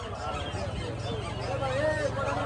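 Belgian duck ducklings call at a livestock market, a cluster of overlapping honking and quacking notes close by, mixed with a low steady background rumble and crowd hum.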